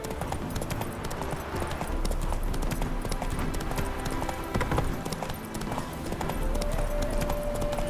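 A horse's hooves clip-clop steadily at a walking pace in The Witcher 3 video game, close and continuous over faint ambient background.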